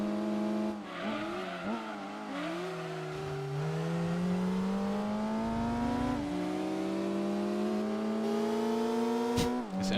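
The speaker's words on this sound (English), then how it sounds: "This engine sounds like a jet drive." A GT3 race car engine in Gran Turismo 2, lapping Bathurst's Mount Panorama, drones loud and close, its pitch climbing steadily through the gears with brief dips at shifts and a short tire squeal near the end.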